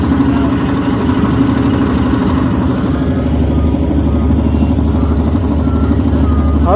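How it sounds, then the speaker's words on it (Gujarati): A large motor boat's engine approaches on the water, a steady, loud low-pitched drone running throughout with a faint voice in the background. "હવે ફાઇનલી મોટો બોટ આવી રહ્યો છે"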